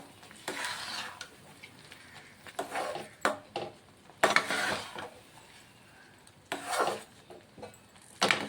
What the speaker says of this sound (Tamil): கிறிஸ்மஸ், முந்திரி, டூட்டி ஃப்ரூட்டி, செரி இதெல்லாம் சேர்த்து ஒரு மிக்ஸ் கொடுத்துக்கலாம்